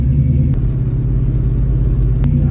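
Low, steady engine rumble from a Ford Mustang being driven, heard from inside the car as a continuous close drone with a couple of faint clicks and no talk.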